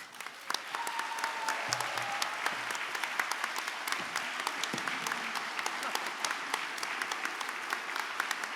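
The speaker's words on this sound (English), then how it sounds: "You deserve a big round of applause for your excellent work." Steady applause from an audience at a university College of Arts & Humanities commencement ceremony honoring educators, dense sharp claps continuing evenly throughout at moderate distance.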